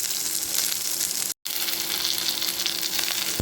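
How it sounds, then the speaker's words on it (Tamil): Large and small onions sauté in a pan, giving a steady, close sizzling and frying hiss that runs throughout, cut off only by a brief dropout in the middle. "இப்போ இந்த பெரிய வெங்காயமும் சின்ன வெங்காயத்தையும் ஒரு 2-3 நிமிஷம் நம்ம வந்து தொடர்ந்து வதக்கிக்குவோம்."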